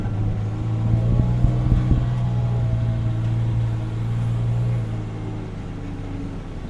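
A Kubota RTV 1100C side-by-side utility vehicle climbs a hill in high range, its engine holding a steady low drone with a few brief knocks and rattles near the start.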